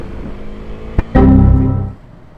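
Main-road traffic near Kalewadi Phata, Pune: after a sharp click, a nearby vehicle engine roars loudly past for under a second, then fades into a low road rumble.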